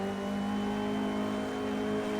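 A Bentley Speed 8 race car engine at full throttle in a racing video game at Bathurst, a loud, steady, sustained high-revving drone with no talk over it.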